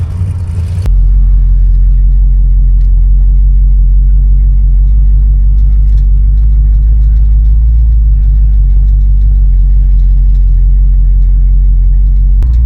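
A car on the road on the first day of a driving event: a loud, close, continuous low engine rumble with steady road drone throughout and no clear changes in pace.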